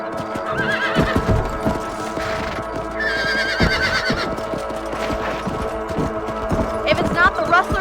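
A horse whinnies several times over steady clip-clopping hooves in Red Dead Redemption, with busy game-world ambience and music filling the background.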